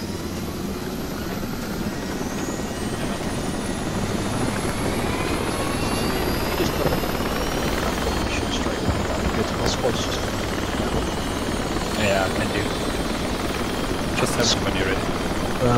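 Helicopter from the video game Project Reality flying with a continuous loud rotor and engine drone, rising whine tones over it, while players talk faintly in the background.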